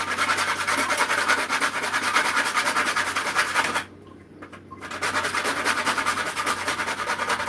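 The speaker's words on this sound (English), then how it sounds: "So I'm gonna be grating like half of it inside." Whole nutmeg grated by hand in a kitchen for Jamaican banana porridge, a steady rhythmic rasping scrape up close, with a brief pause midway.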